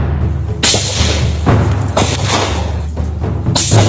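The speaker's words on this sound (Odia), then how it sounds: "ଚାରିପଟେ ଶୁଭୁଛି ମାଓ ଗୁଳି ଶବ୍ଦ।" Gunfire from a Maoist attack in Dantewada, Chhattisgarh, heavy booming bursts at intervals over continuous loud rumbling noise, harsh and distorted as if recorded nearby.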